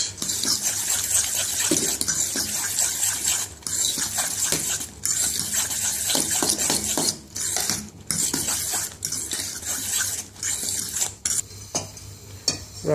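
Egg omelette batter with baking powder and salt is stirred briskly in a bowl, a continuous scraping and clinking of utensil against the dish with brief pauses, close up and without talk.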